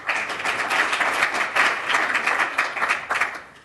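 Audience applause fills a room for a volunteer being called up at a leadership workshop, steady dense clapping for a few seconds that tapers off at the end.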